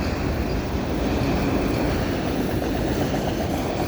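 A long freight train of auto racks rolls past close by, a steady dense rumble and clatter of wheels on rails that holds without pause, with no talking.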